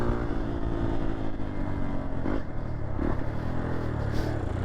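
Xpulse supermoto motorcycle ridden through town streets on Holi, a steady loud engine drone with wind rush and a few brief clattering bursts, heard close from the rider's position, with no talk.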